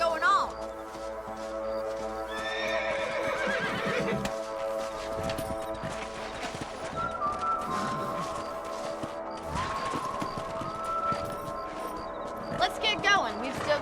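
Horses whinny and snort over steady hoofbeats and clopping in the video game Red Dead Redemption, with a voice speaking intermittently throughout.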